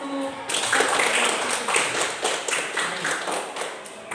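Students in a Year VII Islamic studies class at an Indonesian madrasah break into brief, lively clapping after a teacher's prompt, a burst of many hands in a classroom that gradually thins.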